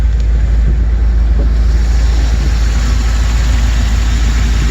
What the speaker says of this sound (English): The engine runs very well.